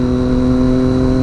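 A motorcycle engine drones loud and close with a steady, tonal hum as the bike arrives on an open road, holding an even pitch throughout the brief moment.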